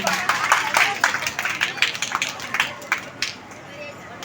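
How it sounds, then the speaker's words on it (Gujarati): Applause welcoming a guest at a temple anniversary festival: several seconds of dense crowd clapping, fairly close and loud, with voices murmuring through it before it tapers off. "જોરદાર તાળીઓથી એમને પણ આપણે વધાવીશું"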